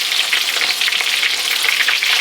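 Lamb chops fry in a hot pan with a loud, steady, close sizzle that crackles without pause and has no talk over it.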